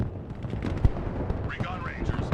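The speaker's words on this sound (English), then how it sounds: "Let's see some Dragonfire mortar here." Dragonfire mortar fire in the war game Broken Arrow: distant dull booms and a thumping low impact under continuous game noise, with someone talking over the action.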